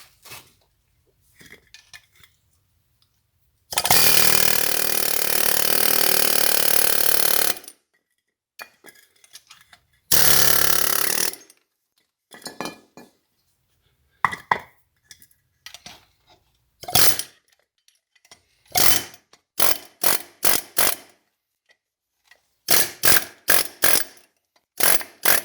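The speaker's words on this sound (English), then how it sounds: "I'm going to hit on the inner race with the air hammer, and this thing's just going to walk it right out" An air hammer drives out the inner race of a wheel bearing on a Suzuki Vinson ATV, two long loud rattling bursts, then scattered metallic clinks and clanks of parts moving, close by with no voices.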